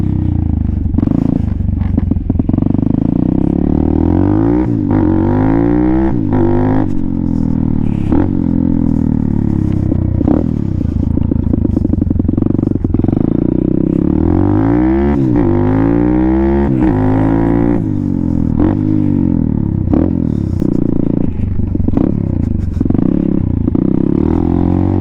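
Venom Thunder 125cc motorcycle running after a Nibbi carburetor install, loud close engine with repeated revs rising and falling over a rattly idle, heard alone without speech.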